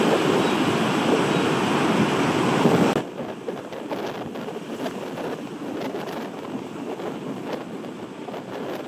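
Ocean waves breaking on a reef off the New South Wales coast near Kiama, a continuous heavy roar of surf that drops a little in level partway through, steady and wind-blown with no voices.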